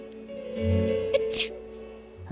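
A single sharp sneeze bursts out once, brief and close, amid a quiet scene in the game Persona 4 Golden, with a soft musical drone underneath and a short vocal sound before it.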